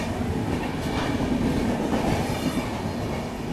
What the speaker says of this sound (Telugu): ఇక్కడ నుంచి ట్రైన్ అయితే వెళ్తుంది